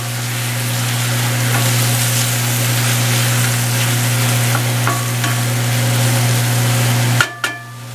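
Zucchini sauteed in a pan with vegetables and dried fruit: a loud, even sizzle over a steady hum, with a few soft stirring scrapes and a sharp clatter near the end.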